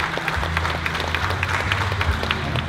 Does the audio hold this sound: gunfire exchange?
no